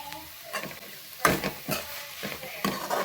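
Capsicum frying in a pan for capsicum gojju, a soft sizzle broken by several sharp spatula scrapes and stirs, close and fairly loud, with no talking.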